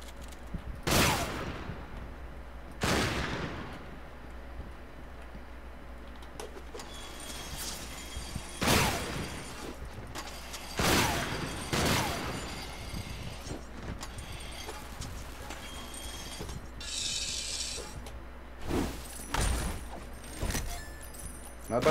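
Bursts of automatic gunfire in a video game crack out every couple of seconds at irregular intervals, with clanking mechanical noises between the volleys.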